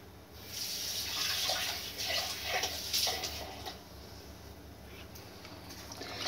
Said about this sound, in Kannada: ನನಗೆ ಇನ್ನೊಂದು ಸ್ವಲ್ಪ ನೀರು ಬೇಕು,